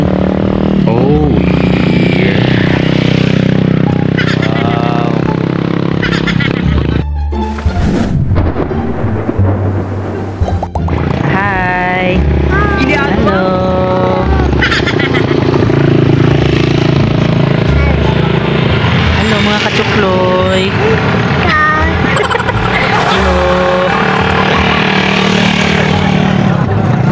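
A motorcycle engine drones steadily while riding through the countryside, loud and close, with heavy wind buffeting and a voice talking over it.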